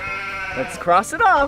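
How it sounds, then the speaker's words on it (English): Sheep bleating in a farm-animal learning game for children, a steady bleat followed by two louder wavering bleats, with a person speaking over part of it. "it's a sheep."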